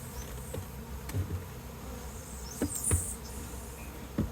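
Honey bees buzz steadily around a hive as it is lifted off its box. The droning is faint and continuous, with a few soft knocks and clicks over it.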